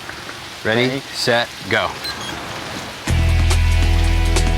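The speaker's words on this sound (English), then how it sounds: "not raining hard enough to overcome the margin of error. But then, the heavens open." Heavy rain suddenly starts pouring down, a loud steady hiss and roar of water that abruptly fills the scene after a few short spoken words and then continues unbroken.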